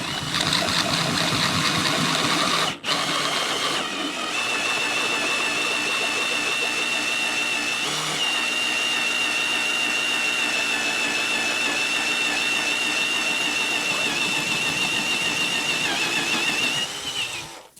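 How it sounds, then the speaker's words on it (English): A power drill turns a larger bit slowly through plexiglass acrylic sheet, giving a steady, loud motor whine that runs unbroken for most of the span after a brief pause near the start. "You want to drill kind of slow."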